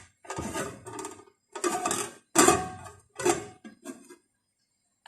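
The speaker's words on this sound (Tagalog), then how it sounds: "So, takpan lang natin." A lid goes onto a pot of rice and water for chicken congee with a series of metallic clattering knocks and scrapes in several short bursts, close and fairly loud, ending quietly.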